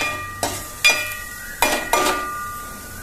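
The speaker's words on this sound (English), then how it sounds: "Onion is almost getting there. Stir once again so it doesn't burn." Onion fries in a steel pan for a Spanish spinach and chickpea stew, a low steady sizzle broken by four distinct scraping stirs of a utensil, close and without talk.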